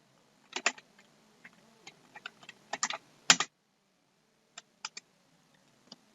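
Sparse bursts of keystrokes on a computer keyboard as a name is entered into an online birth registration form, crisp and close, with short clusters separated by silent gaps.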